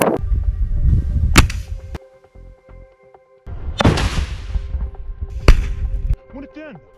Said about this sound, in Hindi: आईडीएफ के एक टैंक पर रॉकेट लॉन्चर से गोला फायर करता है, जिसमें जोरदार ब्लास्ट होता है।